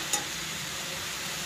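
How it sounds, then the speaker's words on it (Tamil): A steady, soft hiss of tomatoes sautéing in a pan, with a brief light clink near the start. "தக்காளி சேர்த்து கொஞ்சம் நல்லா வதக்கினதுக்கப்புறம்"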